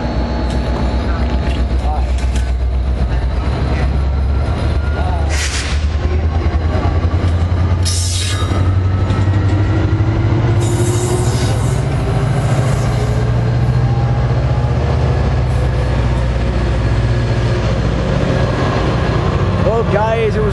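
A New Jersey Transit or Metro-North train passes by, a long, loud rumble with low drone and rail noise swelling and fading, while people chat nearby over it.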